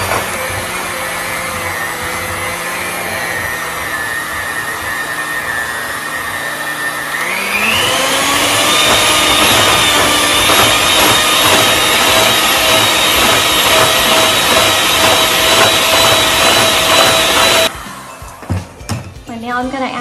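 Electric mixer beating cookie dough until fluffy, a loud steady whirring motor that jumps up in speed and pitch partway through, runs on evenly, then cuts off abruptly near the end, followed by a few clattering knocks.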